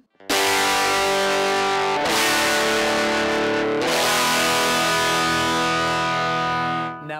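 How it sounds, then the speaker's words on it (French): Electric guitar driven through a Radial Classic V9 distortion pedal into a JDX set to 4x12 cabinet voicing, playing thick sustained distorted chords with three strummed attacks, loud and continuous, ringing out alone. "on va remplacer la TS9 par la nouvelle pédale de distorsion radiale classique V9"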